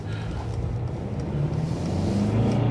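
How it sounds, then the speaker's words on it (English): A Mercedes E220d diesel engine pulls under acceleration, a low, steady rumble heard from inside the car that grows gradually louder and deeper. "Oh, it's got a bit of grunt to it. This is the diesel engine."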